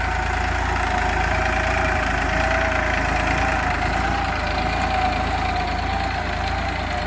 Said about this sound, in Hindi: आज आपणे बात करवाना छे न्यू होलैंड 3230 जे TX प्लस नवुं मॉडल है।